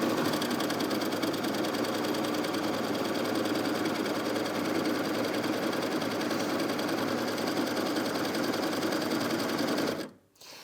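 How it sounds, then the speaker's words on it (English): Bernette b68 Airlock overlocker sewing a bottom hem on t-shirt knit fabric, a loud, fast, steady mechanical hum running close and unbroken for about ten seconds before stopping abruptly. "we're just going to sew the bottom hem"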